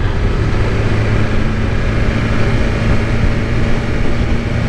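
A BMW S1000RR motorcycle being ridden at speed, a steady loud engine drone mixed with rushing wind noise that holds constant throughout, with no voices.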